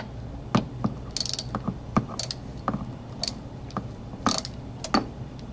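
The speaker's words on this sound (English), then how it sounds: "Next, take your socket wrench" A socket wrench ratchets a spark plug out of a Honda EU2000i generator. Close, sharp metallic clicks come in short irregular bursts, with no talking.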